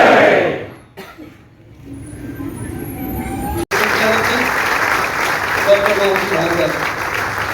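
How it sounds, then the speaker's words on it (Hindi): Audience applause breaks out at an award ceremony, swelling into steady loud clapping after a spoken passage and a sharp cut, with voices heard at the start. "आप लोगों की जोरदार तालियां"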